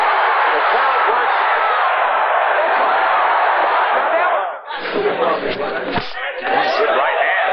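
Arena crowd at a 1990 boxing match roars loudly and continuously as a fighter is hurt and staggering, the cheering dipping briefly then surging again, with an announcer talking over it.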